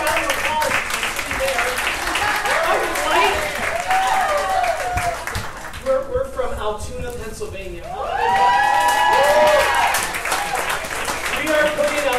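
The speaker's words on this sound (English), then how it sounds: "Oh, give a round of applause." An audience at the Creative Cauldron theater breaks into loud, sustained applause with some cheering, swelling again partway through, while people talk over it.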